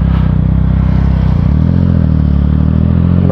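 Yamaha XSR900 motorcycle riding at a track day at Clark International Speedway, engine held at a steady loud drone with a slight shift in pitch midway, close and continuous with wind noise.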